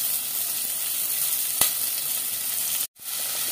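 Four chopped medium onions sizzle in a pan for an egg and potato curry, giving a steady, close hiss with one brief clatter and a short drop near the end.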